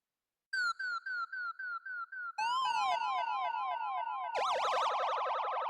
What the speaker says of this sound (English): it's a free plugin that you can use to make dub siren sounds